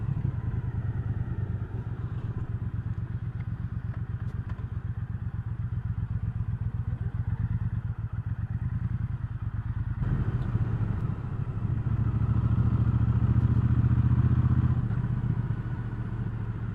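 A 2019 Triumph Speedmaster motorcycle on a ride, its engine thrumming steadily close by, the note swelling louder as it accelerates partway through, with light rattles and thumps and no talking.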